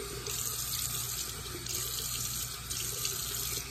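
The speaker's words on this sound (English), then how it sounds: "splashing with water" A bathroom tap runs steadily into a sink while water is splashed on the face for rinsing, a quiet, close, continuous hiss of flowing water with faint splashes.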